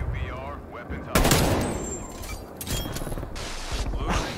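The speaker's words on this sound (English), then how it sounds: "I shot him square in the penis" Call of Duty Cold War gameplay gunfire: a loud burst of rapid shots breaks in after a quiet start, followed by continued bursts of automatic fire and clattering, with voices in the mix.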